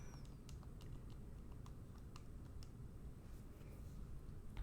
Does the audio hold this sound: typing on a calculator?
yes